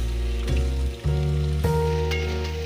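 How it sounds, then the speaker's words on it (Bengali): Potatoes and ridge gourd fry in hot oil for a Bengali jhinge posto, giving a steady, close sizzle with a few sharp crackles over a low hum. "আলুগুলোকে একটু ভেজে নেবার পরে কেটে রাখা ঝিঙেগুলোকে দিয়ে দিতে হবে।"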